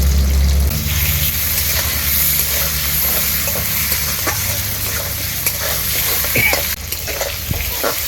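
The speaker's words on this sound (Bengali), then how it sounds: "আলুগুলোকে হালকা লাল করে আমি ভেজে তুলব" Potato pieces fry in oil seasoned with salt and a pinch of turmeric, giving a loud, steady, close sizzle with occasional stirring clicks and a deeper rumble at the start.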